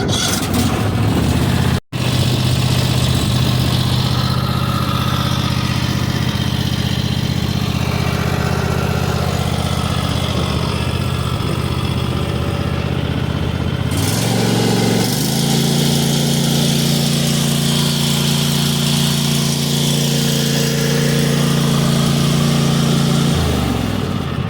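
A 2022 Cub Cadet XT1 ST54 lawn tractor engine runs steadily up close at a low idle hum, dips briefly in the middle, then climbs to a higher, louder steady pitch that holds to the end.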